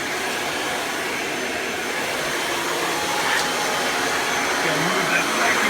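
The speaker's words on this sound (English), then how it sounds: "the vacuum does get pretty noisy when it's running with the hose because of how high the speed is" A Kirby Ultimate G Diamond Edition upright vacuum runs at high speed with the hose attached, a loud steady roaring whine that stays close and constant throughout, with a faint voice underneath.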